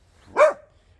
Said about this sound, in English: No barking, Pace